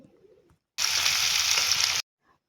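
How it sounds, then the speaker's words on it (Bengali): Potatoes frying in a pan give a loud, close sizzle that starts abruptly, holds steady for just over a second, then cuts off, with quieter kitchen sounds before and after. "আলু ভাজা হচ্ছে"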